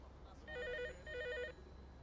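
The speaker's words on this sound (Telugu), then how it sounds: "Sir phone." A telephone rings in a Telugu crime thriller film, two electronic trilling bursts with a short gap between them, moderately clear over a low background hum.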